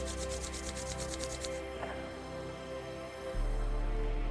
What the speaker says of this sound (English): slowly rub your palms and place it on your eyes